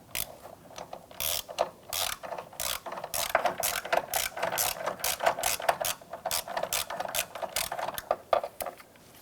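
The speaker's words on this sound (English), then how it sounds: "Using our 13mm socket and extension, we're going to go down in the front side of the battery and we want to loosen" A ratchet with a 13mm socket on an extension clicks in quick repetitive bursts while loosening the battery hold-down clamp bolt on a 2007-2012 Nissan Versa, close and steady throughout with no talk.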